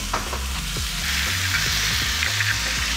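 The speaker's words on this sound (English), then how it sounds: "stir fry for another couple of minutes" Broccoli leaves and zucchini stir-frying in a hot pan for a glass noodle pad see ew, a steady close sizzle with scraping and tossing clatters from the spatula.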